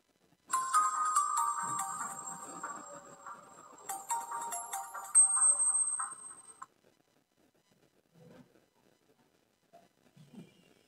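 A 4G Android smartwatch, an S8 Ultra with 1GB/16GB, plays a bright chiming startup tone as it powers on, roughly six seconds of layered melodic notes. Faint handling noises follow in near silence.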